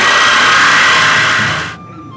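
A saber saw cutting a hole during a vintage car air conditioning install, one loud, close, harsh buzzing burst that runs steadily and then stops abruptly near the end.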